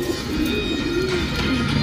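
Pigeon cooing close by during a look at a class-one bird for sale, a low rolling coo heard over a steady, noisy background.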